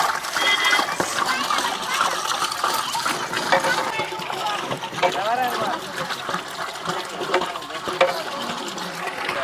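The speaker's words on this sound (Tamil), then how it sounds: "தண்ணி ஊற்றியாச்சு." Water trickles and splashes as it is poured into a large pot of 15 kg chicken dum biryani, the pouring steady and moderately loud under a person talking.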